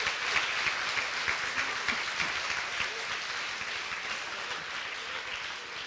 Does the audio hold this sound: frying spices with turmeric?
no